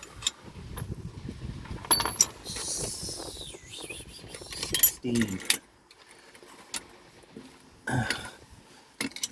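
A ring spanner handled while fitting an axle location kit and leaf springs on a Ford Capri, metallic clinks and jangles close by, under intermittent talk.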